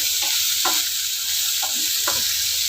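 Sliced onion sautés with salt in a pan, a steady loud sizzle broken by a few scraping stirs of a spoon, with no talk over it.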